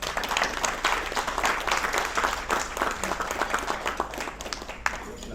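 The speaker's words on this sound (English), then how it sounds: "You're clapping your hands at me" An audience at a corporate rum company event in Bacolod applauds steadily for several seconds, a dense, continuous wash of many hands clapping with no voices standing out.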